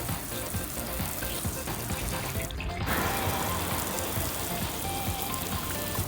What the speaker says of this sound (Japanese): 水かけてるところをアップで撮影してみますか